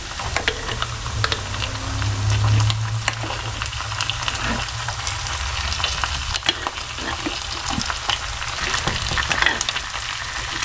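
Homemade buro, fermented rice, fries in oil with a steady crackling sizzle and frequent sharp pops. Occasional utensil scrapes sound close by, and there is no talking.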